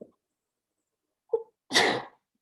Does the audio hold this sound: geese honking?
no